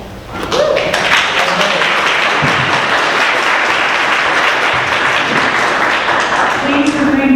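A crowd at a public hearing bursts into loud, sustained clapping, many hands blending into a thick roar that holds steady for several seconds, with voices faintly audible beneath it.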